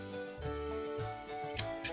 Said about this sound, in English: The mouse says squeak,